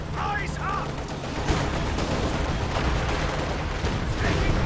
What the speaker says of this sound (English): another B4 shot goes off on this headquarters